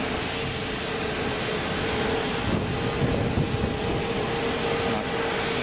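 Boeing 777X jet engines roar steadily at an airfield after landing, a loud continuous broadband rumble with a faint tonal whine, swelling slightly midway as the aircraft taxis nearby.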